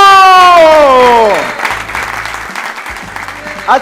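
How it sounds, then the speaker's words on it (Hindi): A talk-show studio audience applauds to welcome two guests, a steady wash of clapping rising right after a loud descending musical sting and carrying on evenly to the end. "आप लोग की भरपूर तालियों में दावत देते हैं काशिफ खान और हनीफ राजा को।"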